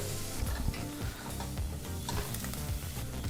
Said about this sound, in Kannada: ಈ ರೀತಿ ಈರುಳ್ಳಿನ ಮೀಡಿಯಂ ಫ್ಲೇಮ್ನಲ್ಲೇ ನಾವು ನಾಲ್ಕೈದು ನಿಮಿಷ ಫ್ರೈ ಮಾಡ್ಕೋಬೇಕು